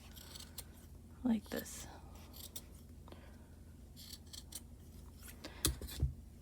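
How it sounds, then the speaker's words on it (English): Sharp scissors snip through crochet yarn on a handmade baby beanie, giving a few brief crisp cuts near the mic, one early and a pair toward the end, with quiet speech between them. "You're just going to go around and cut"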